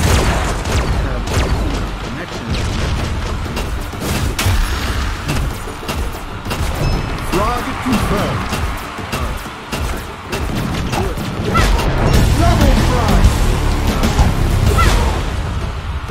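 Rapid gunfire and heavy explosions from the online shooter game FRAG, a dense, loud, continuous barrage of shots, booms and impacts with no pause.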